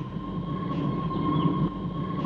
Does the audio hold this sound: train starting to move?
yes